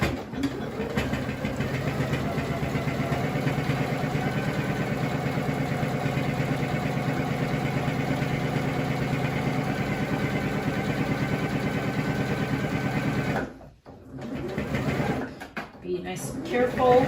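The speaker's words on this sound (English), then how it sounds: "we're gonna sew at 1/4 of an inch, and you're just enclosing this" Home sewing machine stitching a quarter-inch seam along a fabric face mask and strap, a steady close motor hum running unbroken for about thirteen seconds before stopping, with a few brief handling noises after.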